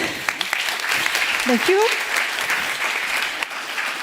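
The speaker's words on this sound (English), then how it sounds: "So a big applause for Irene." Conference audience applauding at a food sovereignty event in Rotterdam, sustained dense clapping at moderate volume while a voice briefly speaks over it.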